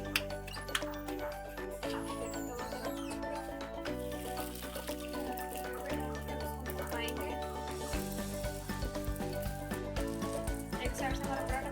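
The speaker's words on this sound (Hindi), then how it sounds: "तवा हमारा गर्म हो चुका है। अब पराठा उस पर" Chicken paratha sizzling on a hot tawa, a steady crackling fry heard throughout beneath a layer of background music.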